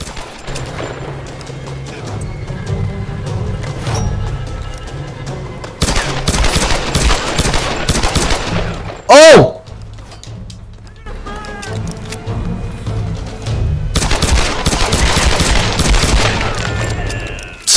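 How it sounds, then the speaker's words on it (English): Handgun gunfire in the video game Tomb Raider comes in several loud rapid bursts of shots with crashes and a sharp burst in the middle, separated by quieter stretches. "Alright, handgun time."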